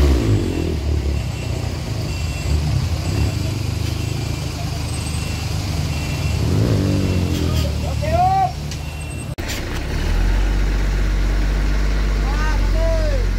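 A heavy truck engine rumbles and revs as it tows a crashed crude palm oil tanker truck out of a ravine. The low engine drone is steady and fairly loud, with people talking and shouting over it.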